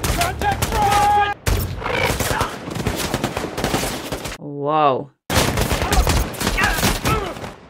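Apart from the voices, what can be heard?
gunfire in the movie American Sniper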